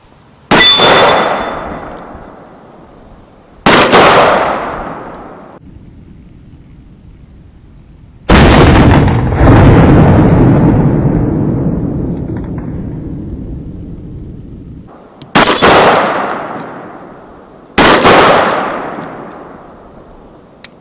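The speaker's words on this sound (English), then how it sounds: "let's see if we can take a few shots at these gongs" Five .44 Magnum rounds from a Smith & Wesson Combat 66 revolver ring out on steel gongs, each sharp crack followed by a loud, decaying metallic clang, spaced several seconds apart with one long ringing tail in the middle.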